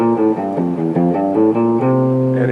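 An electric guitar plays a C Mixolydian scale pattern, a run of clear, evenly spaced single notes stepping through the scale over a dominant seventh sound, close and alone without talk.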